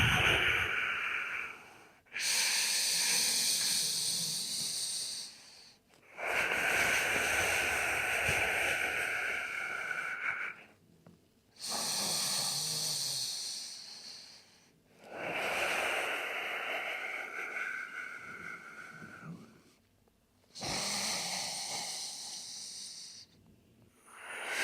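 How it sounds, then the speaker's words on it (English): Slow, deep yoga breathing held through a downward dog pose: five long, loud breath cycles alternating between inhales and exhales, each several seconds long with brief pauses between, airy and close with no talk. "5 breaths."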